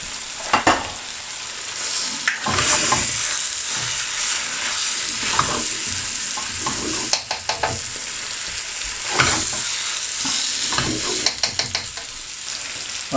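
Spring onion and fresh green chilies frying in a methi chicken curry, a steady sizzle punctuated by repeated clattering spoon strokes against the pot, close and fairly loud.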